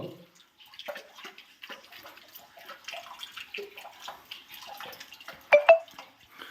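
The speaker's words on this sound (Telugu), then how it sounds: "ఇక్కడ లింగం మీద అనునిత్యం వాటర్ పడుతుంది" Water dripping and trickling steadily onto a stone Shiva lingam inside a forest shrine in the Nallamala forest, soft and continuous, with a couple of louder splashes near the end.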